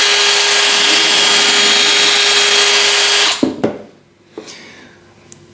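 A flexible shaft rotary tool whirs steadily at high speed with a loud, constant whine, then cuts off abruptly, followed by a few clicks and taps.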